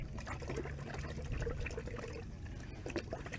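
One liter of water poured to rinse a container while mixing a mango flower-induction solution, a continuous close trickling pour that stays fairly loud throughout.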